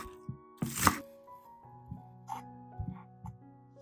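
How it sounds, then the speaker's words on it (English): A knife chops through green onions on a board in a few sparse, close cuts, one louder crunchy stroke among quieter taps, against a quiet background with a faint hum. "chop the green onions according to your usual use"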